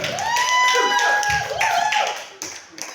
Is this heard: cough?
no